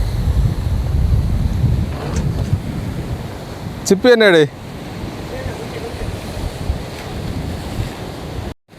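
Surf breaking on the shore at Colachal beach beside a fishing harbour, a loud continuous roar with heavy wind buffeting the microphone; someone speaks briefly midway.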